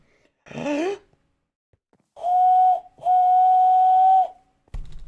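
A person imitates a train whistle with the voice, giving two long, steady, piercing tones after a short rising vocal sound, close and loud.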